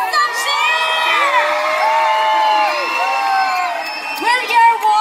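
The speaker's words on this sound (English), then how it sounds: "Why don't we give them a round of applause and some cheer?" A concert crowd at a show in Dubai cheers and whoops loudly and continuously, with high shrieking voices rising and falling throughout.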